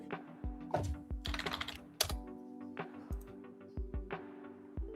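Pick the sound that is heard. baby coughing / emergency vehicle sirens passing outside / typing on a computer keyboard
typing on a computer keyboard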